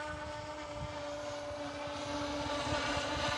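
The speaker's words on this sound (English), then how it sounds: "I wanna show you guys a little bit of reverse thrust here" A Horizon Hobby Carbon Z Cub SS 2.1m RC airplane flies with its propeller in reverse thrust, a steady, buzzing motor drone with a faint whine that grows slightly louder toward the end.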